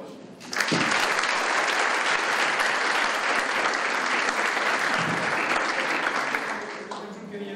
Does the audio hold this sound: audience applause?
yes